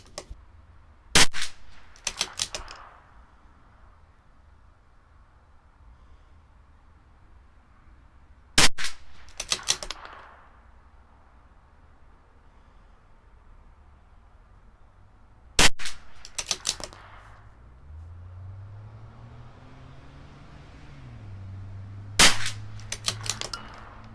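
Four sharp rifle shots from a CZ 457 LRP firing Sellier & Bellot match ammunition, spaced several seconds apart, each followed by a brief clatter of bolt cycling, with a low hum in the background.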